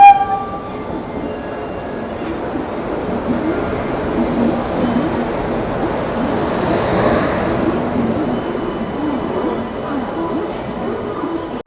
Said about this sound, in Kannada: ಹದಿನಾರು 236 ಟ್ರೈನ್ ನಂಬರು ಸದ್ಯಕ್ಕೆ ಪ್ಲ್ಯಾಟ್ಫಾರ್ಮ್ ನಂಬರ್ 5ಗೆ ಬಂದಿದೆ